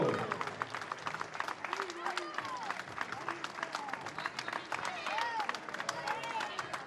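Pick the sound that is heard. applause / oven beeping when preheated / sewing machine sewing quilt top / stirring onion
applause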